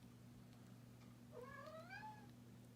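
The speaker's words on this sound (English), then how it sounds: "you probably just heard my Trixie in the background, my cat" A pet cat gives one drawn-out meow, faint and distant, over a steady low room hum.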